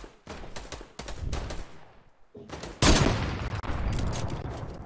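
Gunfire in the video game Fortnite crackles in rapid bursts of shots, with a sharp louder blast near the middle followed by more sustained firing, close and dense with no voices over it.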